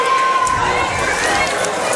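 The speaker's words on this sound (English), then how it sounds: "he is hearing it from the crowd right now" A basketball crowd in a college gym reacts to a foul call with a steady, loud roar of shouting and jeering voices filling the space.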